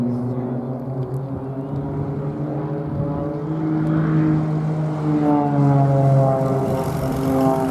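An Extra 300L low-wing aerobatic plane with a 300 horsepower engine flies overhead at an air festival, its propeller drone shifting in pitch and growing louder as it passes at moderate distance.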